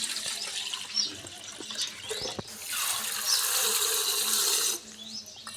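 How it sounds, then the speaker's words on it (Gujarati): Water pours into a cooking pot of fenugreek leaves with turmeric and salt, a steady splashing rush lasting a couple of seconds amid a few clinks and clatters nearby. "હવે પાણી એડ કરવાનું."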